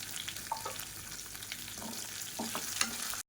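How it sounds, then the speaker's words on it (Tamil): Steady frying sizzle of garlic, ginger and small onions in a pan, with occasional scraping stirs, close and continuous, no voices. "இப்போ இது எல்லாமே பொரிய ஆரம்பிக்குது."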